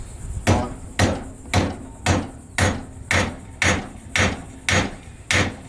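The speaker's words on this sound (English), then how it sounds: "take the hammer and hit the nail on" Hammer blows forging the head onto an orange-hot nail, ten sharp evenly spaced metallic strikes about half a second apart, loud and close with brief ringing after each hit.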